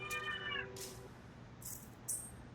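An indoor house cat, kept from going outside, cries in a few short, drawn-out meows at moderate distance. There are brief gaps between the calls, and faint high-pitched noise can be heard in the quiet room.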